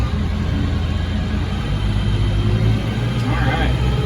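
A Ford 7740 diesel tractor engine runs with a loud, steady low rumble that rises slightly as the throttle is worked, close by, with a voice talking over it.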